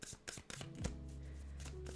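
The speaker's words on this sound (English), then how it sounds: "So these are the Art of War cards. We're going to shuffle these" A deck of Art of War cards being shuffled by hand, a few quick papery riffles and taps up close, then a low steady hum settles in underneath.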